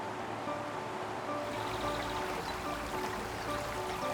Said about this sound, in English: This is Scotland's fastest flowing river.